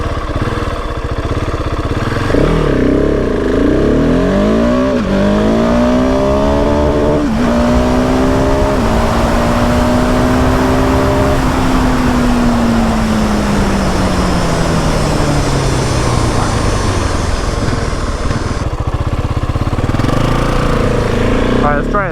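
A 2020 Husqvarna 701 SM motorcycle accelerating hard, its engine pitch climbing steadily through the gears with brief dips at each shift, loud and close over strong wind rush throughout.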